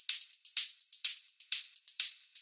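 Hi-hat and percussion loop from an Ableton sample library in a progressive house track, bright crisp hits repeating in a steady rhythm, close and dry with nothing else playing.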